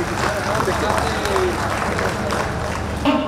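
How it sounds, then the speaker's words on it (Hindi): A crowd at an official ceremony at Deoghar airport claps steadily for several seconds, a dense, even patter with a voice carrying over it. "आप सबकी तरफ से जोरदार तालियां"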